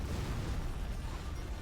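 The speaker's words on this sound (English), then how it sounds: "And the anthrax bomb to boot." An anthrax bomb explodes in the video game Generals Zero Hour, a sustained, rumbling blast with crackling noise that fills the whole short clip at constant loudness, with no voices.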